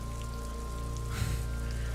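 Rain falls steadily in the game Disco Elysium, a soft patter beneath a low ambient hum, briefly swelling in the middle, with no speech.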